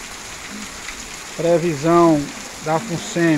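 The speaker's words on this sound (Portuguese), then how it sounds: "mais uma chuvazinha aqui para alegrar o sertanejo" Steady afternoon rain in Limoeiro do Norte hisses as a constant wash in the background while someone talks over it.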